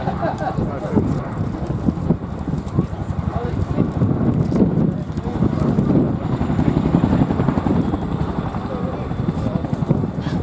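A military helicopter flies onto a battlefield, its rotor giving a loud, dense, rapid thudding chop with wind rumble throughout, close and continuous.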